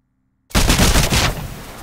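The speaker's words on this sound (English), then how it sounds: "Eliminate all of the targets with your smart pistol." A rapid burst of smart pistol shots from the game Titanfall erupts abruptly after silence, loud and close, with the shots running together before fading into a short tail.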